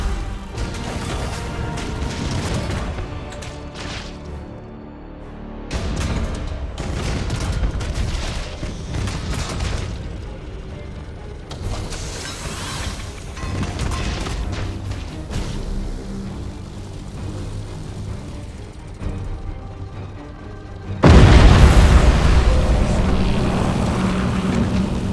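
Spaceship artillery batteries bombard a target in the Battlefleet Gothic Armada 2 space battle. Rumbling booms and crashes roll on in waves, then a sudden, much louder barrage erupts near the end.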